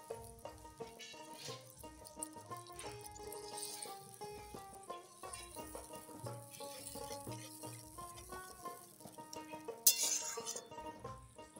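Coconut milk poured and stirred into a village-style pomfret fish curry, with soft clinks and scrapes of a spoon against the pan in an irregular rhythm amid faint background tones, heard up close.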